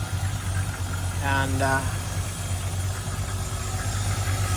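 MGB engine fitted in a Land Rover 110 idles nearby with a steady low rumble, and someone briefly speaks over it.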